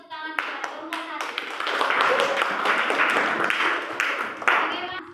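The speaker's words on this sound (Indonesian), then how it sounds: "beri tepuk tangan kepada kelompok 1" A classroom applauding a student group, a burst of many hands clapping at close range that swells and holds for a few seconds, with voices mixed in.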